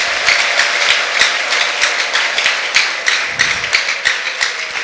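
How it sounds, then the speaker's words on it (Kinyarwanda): A church congregation claps together in sustained, steady applause, a dense even patter of many hands with no talking over it. "Ndumva Imana mwayikomera amashyi menshi."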